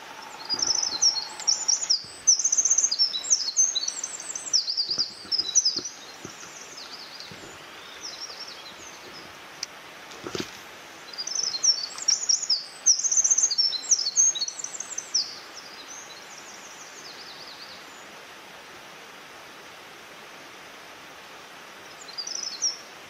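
Small songbirds chirp and trill in a spring forest in Daisetsuzan National Park, Hokkaido, their high, bright calls coming in repeated bursts with short pauses over a soft rustling background.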